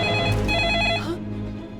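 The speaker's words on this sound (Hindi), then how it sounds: "हक्सली का फोन हुआ तो?" A cartoon telephone rings with a bright, tonal electronic trill that cuts off partway, then fades into a lower lingering hum, brief and close with no speech.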